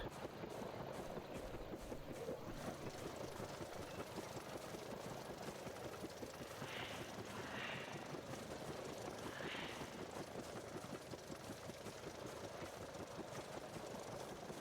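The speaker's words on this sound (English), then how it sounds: "with all the chopper blades whirring" Helicopter blades whirr steadily in the Prehistoric Hunt: Tenebris game, a continuous rapid low chop that stays constant throughout, with faint higher chirps rising briefly above it.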